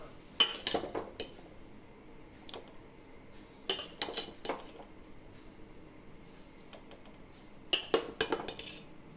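White rice tipped into a pan of carrot fried rice after the stove is switched off, heard as scattered metallic clinks and scraping bursts of a utensil against the pan, in three clusters with quiet gaps, fairly soft and close.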